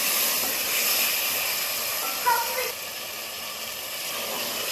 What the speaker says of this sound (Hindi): अब इसको मसाले में शामिल कर देंगे और 2-3 मिनट के लिए भूनते जाएंगे।